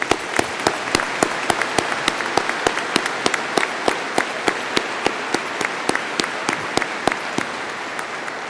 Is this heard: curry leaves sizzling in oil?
no